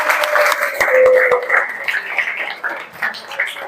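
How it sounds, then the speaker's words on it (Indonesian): Vocational high school classroom applauding group 4, a short burst of students clapping with a few sharp claps, tapering off as voices chatter over it. "Tepuk tangan untuk kelompok 4."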